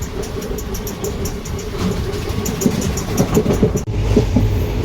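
Passenger express 12604 to Chennai running on railway tracks, a sustained close rumble with intermittent wheel clatter that grows busier toward the end, broken by a sharp momentary dip; no one speaks.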